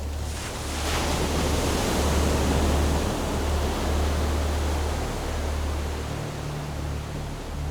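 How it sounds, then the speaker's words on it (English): Ocean waves wash and crash against a ship at sea in a steady, broad roar of surf, loud and continuous with no talk. "watching the waves crash"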